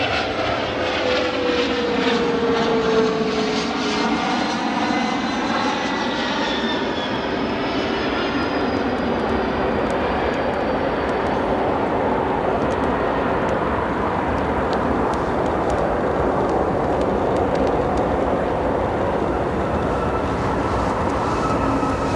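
Airliner at O'Hare International Airport, a Spirit or similar jet, roaring loudly and steadily with a broad engine rush and a descending whine as it passes, sustained and near throughout with no talk.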